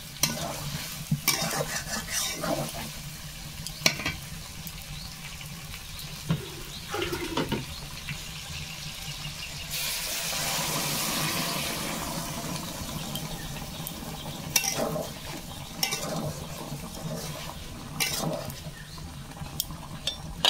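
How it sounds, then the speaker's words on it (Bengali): Water poured into a hot frying pan, bursting into a loud, steady sizzling hiss lasting several seconds amid scattered clatters of stirring and utensil knocks before and after. "এখন আমি জল দিয়ে দেবো।"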